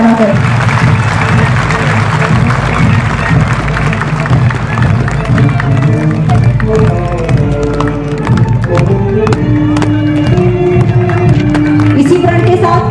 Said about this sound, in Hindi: एक बार फिर जोरदार तालियों द्वारा इनके प्रदर्शन की सराहना करें।